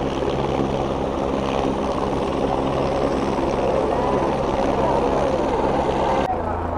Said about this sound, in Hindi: सामने हेलीकॉप्टर की जो है आप देख पा रहे हैं, हेलीकॉप्टर की भी लैंडिंग यहाँ पे हो रही है